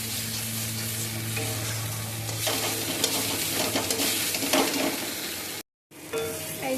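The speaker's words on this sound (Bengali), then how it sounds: "নুন, হলুদ দিয়ে দেব, আর একটু কষিয়ে নেব।" Eggplant sautés in hot oil with salt and turmeric, a steady close sizzle broken by scraping stirs, then a brief cut to silence before the frying resumes; no one speaks.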